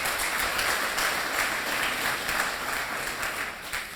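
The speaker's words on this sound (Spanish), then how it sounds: "Dale un aplauso a Jesucristo, por favor" A church congregation applauds during a Spanish-language sermon. The clapping is a dense, steady crowd wash that holds for several seconds at moderate loudness with no voices over it.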